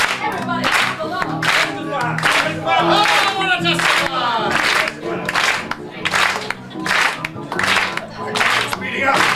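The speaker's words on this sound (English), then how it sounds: "Everybody, clap along." Audience clapping along in steady rhythmic bursts at a live show, loud and close, with crowd cheers and a voice over the beat.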